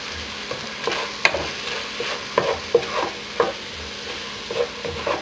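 A spoon stirring softened onion, mushroom and flour in a frying pan, soft scraping strokes and clicks against the pan over a steady low sizzle, close and quiet with no voices.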